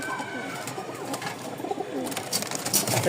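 Pigeons coo at a pigeon sale of racing birds in Mirpur-1, Dhaka, a steady chorus of soft throaty coos from several birds nearby, continuous and moderately loud.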